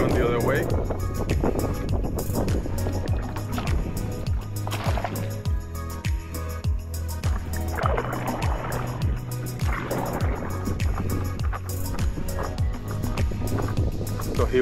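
Rhythmic paddle strokes splash from a paddleboard moving through windy water near Nest Key in Florida Bay, Everglades, with wind buffeting the microphone and a voice talking over the steady strokes.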